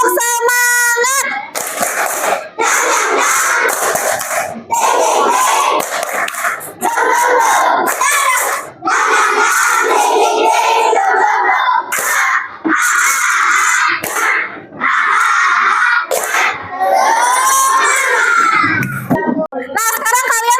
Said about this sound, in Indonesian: Gimana kalau kita tepuk semangat?